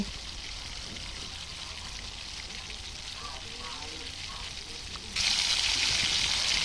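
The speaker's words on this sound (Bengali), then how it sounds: "পেঁয়াজ রসুন পেস্ট করে মশলা তেলের মধ্যে দিয়ে আমি মরিচ দিয়ে দিছি" Onion and garlic paste, spices and chili frying in hot oil in a pan, a steady close sizzle that jumps louder and brighter near the end as more goes in.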